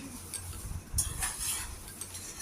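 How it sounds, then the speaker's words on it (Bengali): A spatula stirs tomatoes, onions and boiled potatoes in a pan, with soft scraping and a few light metallic clinks over a faint background, fairly quiet and close. "পেঁয়াজ আর টমেটোর সঙ্গে ভালো করে নাড়াচাড়া করে নিলাম আলুটাকে"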